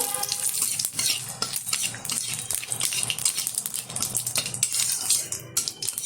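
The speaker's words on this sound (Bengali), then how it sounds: "ফোড়নটা ভালোভাবে ভেজে নেব" A tempering of dried red chili and bay leaf frying in oil, a continuous crackling sizzle up close with busy stirring and utensil clinks throughout and no talking.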